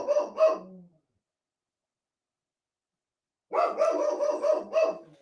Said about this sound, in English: I have no idea what he's barking at.